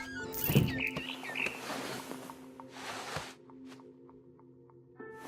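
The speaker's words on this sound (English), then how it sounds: "Then I heard chirping outside my window. It was a barn swallow going back to her nest." In the video game What Remains of Edith Finch, a barn swallow gives brief high chirps near the start over a steady low hum and soft game ambience, followed by quiet rhythmic ticking tones.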